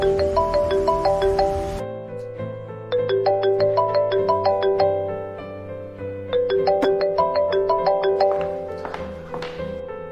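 A phone's ringtone for an incoming call plays a bright, repeating electronic melody, loud and close, cycling several times with short gaps between phrases.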